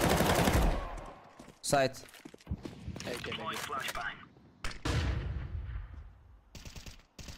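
AK rifle in CS:GO fires bursts of sprayed shots, rapid cracking volleys with other in-game gunfire and noise, mixed under a player talking over the action.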